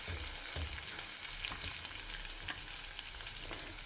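Onions frying in oil until golden brown, a continuous soft crackling sizzle with light irregular pops and occasional faint stirring, steady and fairly quiet throughout, no voices.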